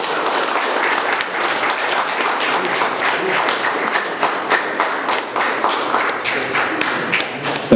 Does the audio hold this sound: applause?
yes